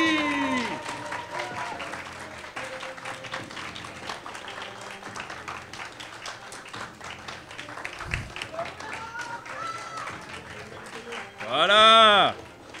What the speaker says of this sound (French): Il faut applaudir moins fort.